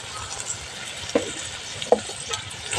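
Salt and turmeric stirred into a frying pan, a soft sizzle under light scraping with a couple of sharp clinks of the spoon against the metal pan.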